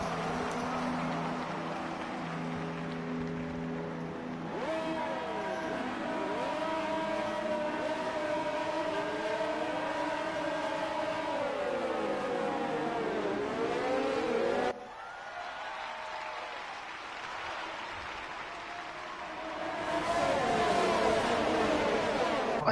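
F1 cars roaring off the line at the Italian Grand Prix in a racing video game, a dense pack of high-pitched engines revving and sweeping through gear changes, loud and continuous with pitch rising and dipping as cars pass.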